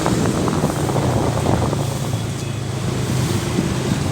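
Steady roaring wash of surf and wind at Losari Beach promenade in Makassar, loud and continuous, with gusts buffeting the microphone and no voices.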